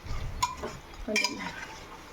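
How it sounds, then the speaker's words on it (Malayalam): Chicken for biryani is stirred in a pressure cooker over high flame, giving a few quiet scrapes and metallic clinks of a spoon against the pot. "കറക്റ്റ്ലി 3 മിനിറ്റ് ഇളക്കി കൊടുക്കുക ഹൈ ഫ്ലെയിമിൽ തന്നെ വെച്ചിട്ട്"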